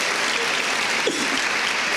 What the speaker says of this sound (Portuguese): Pode aplaudir o pastor ator.